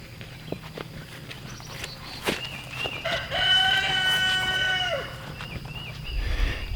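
A rooster crows loudly and clearly in the middle, with hens clucking and scratching about nearby before and after.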